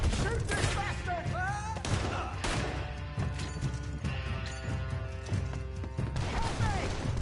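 Gunfire erupts in a Red Dead Redemption 2 shootout, several loud sharp shots and crashing impacts spread irregularly across the scene, with shouting voices mixed in among the blasts.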